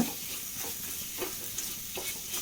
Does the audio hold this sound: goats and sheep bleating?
no